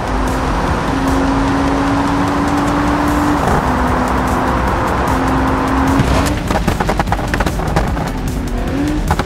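An Audi TT racing and jumping over a row of 100 containers in a car-crash video game, with a loud sustained engine drone, gear-shift pitch steps and tire squeals, then rattling impacts toward the end.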